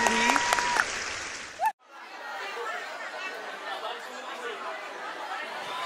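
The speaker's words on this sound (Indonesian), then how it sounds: "Tepuk tangan dong, tepuk tangan dong." An audience at a live Javanese dangdut music show claps and chatters, first loud and dense, then after a brief break a steadier wash of applause and crowd murmur continues.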